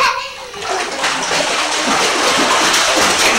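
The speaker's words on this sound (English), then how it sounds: "Who's splashing in my cup?" A small child splashes water in a cup at home, with busy splattering and sloshing that stays close and loud and runs continuously.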